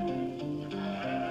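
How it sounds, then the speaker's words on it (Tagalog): Goats bleat close by in a rural setting, several overlapping wavering calls sustained over a soft background hum. "Napapaligiran naman pala tayo ng kambing eh."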